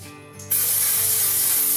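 After a brief quiet moment, a hairspray can hisses in one long, loud, steady burst close by, spraying colored hairspray onto hair.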